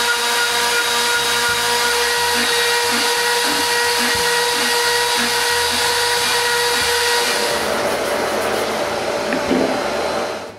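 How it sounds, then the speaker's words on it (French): A power tool whines loudly and steadily while cutting a thread on the end of a wooden central pole, a continuous close drone that shifts in tone near the end. "je fais un filetage au bout du poteau central"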